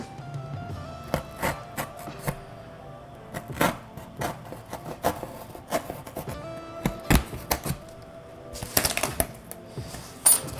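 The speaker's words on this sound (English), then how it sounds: "we'll get a razor blade and we'll cut out that shape" A razor blade scoring and slicing out a traced shape, a series of short scratchy cuts and rasping strokes in irregular bursts, close and crisp, with no one talking.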